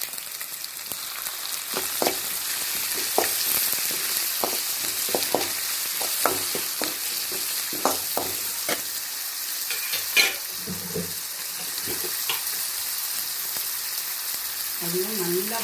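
Finely chopped tomato sizzles in a hot pan as a utensil stirs and scrapes at irregular intervals, close up, with a voice speaking briefly.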